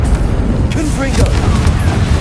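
A Confringo fire spell exploding in the video game Hogwarts Legacy, a loud, low rumbling blast with crackling bursts that holds throughout, with a voice talking over it.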